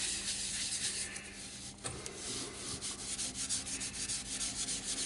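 Finish is rubbed by hand into a turned padauk wood bowl, a continuous close, faint scratchy friction with uneven strokes and one small knock partway through. No speech.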